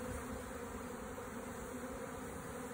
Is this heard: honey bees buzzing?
yes